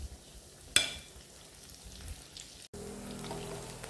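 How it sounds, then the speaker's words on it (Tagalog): Bananas frying in a pan give a steady, close sizzle and crackle, broken by a sharp click just before the first second and a brief dropout later on; no one speaks. "Saging, pritong saging."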